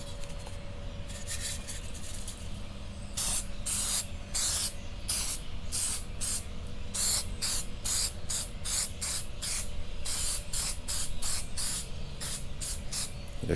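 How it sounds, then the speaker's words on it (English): Repeated bursts of aerosol spray as adhesion promoter is applied to custom suede headliner pieces for a G6 panoramic sunroof liner, short hissing blasts in an uneven rhythm, close and fairly loud over a steady low hum. "I'm gonna put some adhesion promoter on it first."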